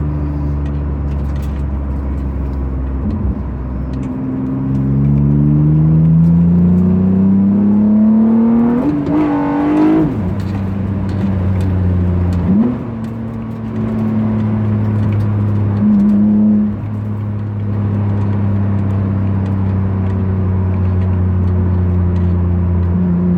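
An old Mitsubishi car accelerates hard at around 125 mph, its engine whine climbing steadily and then dropping briefly at a gear change. The engine settles back into a loud, steady high-speed drone, with no talking.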